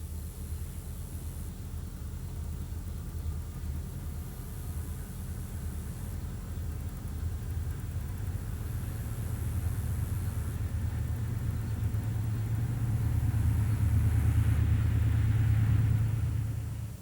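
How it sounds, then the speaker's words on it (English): Southbound train number 573 coasting through a 394-foot tunnel into Park City on the Louisville to Nashville line: a steady low rumble and broad hiss that swells gradually and peaks near the end before easing off. "Here we see southbound number 573 coasting through the tunnel and into Park City, where the train has to pick up a few cars."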